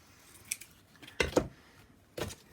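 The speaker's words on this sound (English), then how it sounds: "I'm going to just use a pair of scissors to roughly cut this to the size of my card." A few short, crisp snips of scissors cutting through cheesecloth, with pauses between them, close and fairly quiet.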